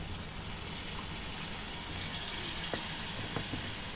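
Warm water is poured into a pan of pointed gourd curry, a steady close gushing hiss that continues evenly throughout with a few faint clinks.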